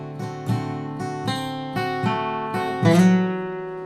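A bluegrass acoustic guitar plays Silent Night, with crisp strummed chords landing in an even rhythm. A final chord rings out with a sliding bass note, and no voices are heard.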